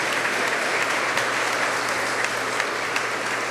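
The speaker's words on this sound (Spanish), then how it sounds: "Vamos a darle un aplauso lleno de cariño." An audience at an Advent retreat applauds warmly, a dense, sustained clapping from a sizable crowd heard evenly throughout with no speech over it.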